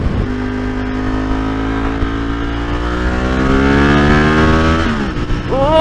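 A 1995 Ducati 916 sports motorcycle engine accelerates hard and loud, its rising harmonic whine climbing steadily in pitch through the revs before a gear change near the end.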